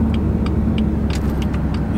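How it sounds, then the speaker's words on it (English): A loud Porsche sports car engine drives past on a Florida street during a rally, a steady low rumble with roar that holds through the whole moment, no talking. "that Porsche is, that thing is really loud"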